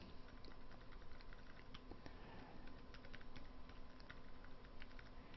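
Rapid, quiet clicking of keys on a computer keyboard and numpad at a desk, an irregular patter of soft taps over low steady background hiss.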